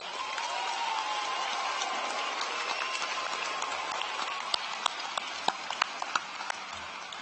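A crowd gives sustained applause at the Shadle Park High School 2018 graduation ceremony. The steady clapping fills the hall, with a few sharper, closer claps standing out near the end.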